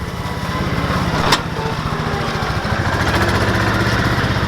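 A utility vehicle engine runs steadily outdoors in a garden, a continuous close, even mechanical hum with one brief sharp click partway through.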